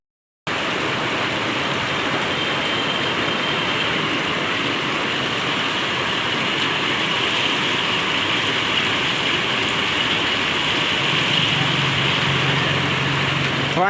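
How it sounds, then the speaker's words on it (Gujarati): Heavy rain falls without pause onto a flooded road outside a shop, a dense, steady hiss of water that stays even and fairly loud, with no voices. "કન્ટિન્યુ 2 કલાકથી વરસાદ ચાલુ છે."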